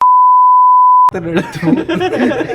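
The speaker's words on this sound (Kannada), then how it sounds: "ಬೀಪ್ ಹಾಕ್ತೀನಿ ನಾನು" A loud, pure censor beep holds a single steady tone for about a second, then cuts off abruptly as talking and a bit of laughter follow.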